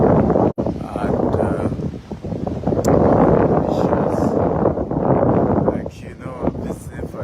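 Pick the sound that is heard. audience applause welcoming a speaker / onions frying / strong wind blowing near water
strong wind blowing near water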